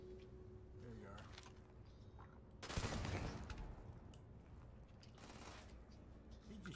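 Enemy gunfire in the video game Starfield, a short loud burst of rapid shots, with quieter shot-like clicks before and after under a low game hum and talk.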